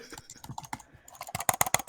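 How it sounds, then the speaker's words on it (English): Rapid clicking on a computer keyboard, sparse and uneven at first, then a fast, loud run of crisp key strikes close to the microphone. "Danny, stop clicking!"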